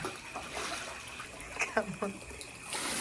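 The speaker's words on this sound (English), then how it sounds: "that's overflowing water from that deep well there" Water overflowing from a deep well trickles and splashes steadily in the background while a voice speaks briefly over it.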